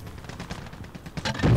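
Sentry gun firing during a team deathmatch in a first-person shooter video game, a burst of rapid shots that builds louder toward the end, heard alone without talk.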